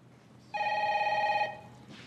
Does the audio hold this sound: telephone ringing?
yes